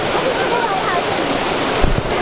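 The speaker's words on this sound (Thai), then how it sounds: "น้ำตกตรงนี้สวยอะ" Water pours steadily at Sarika Waterfall, a constant broadband rush close by, with a low thump or two near the end and no clear talk over it.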